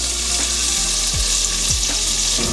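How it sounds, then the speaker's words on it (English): Onions sizzle loudly and steadily in a hot pan as they deglaze it for a green bean casserole, a dense close frying hiss with occasional stirring scrapes. "We're going to go ahead and deglaze our pan with some of these onions."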